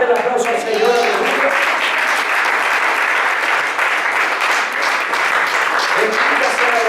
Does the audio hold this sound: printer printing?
no